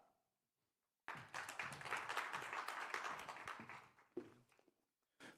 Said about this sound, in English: So please, a round of applause for the project manager of the International Industrial and Educational Partnership